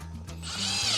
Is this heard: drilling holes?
yes